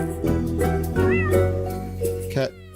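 A cat meows in the video game Solnest, three or four short, bright meows in quick succession over a faint musical background.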